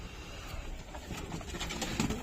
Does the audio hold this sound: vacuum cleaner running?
no